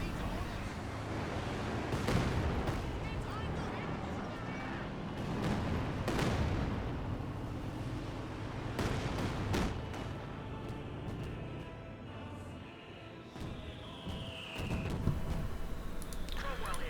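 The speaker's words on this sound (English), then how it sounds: "Here comes a Katyusha barrage." A Katyusha rocket barrage in the real-time strategy game Company of Heroes 2 rumbles as a run of booming impacts and a steady roar, with a voice talking over the explosions throughout.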